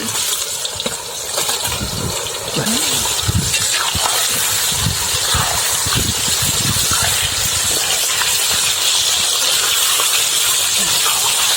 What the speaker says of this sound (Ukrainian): Потрібно, щоб вогонь був сильним щоб м'ясо не стало варитися, а щоб зразу, зразу взялося рум'яною скоринкою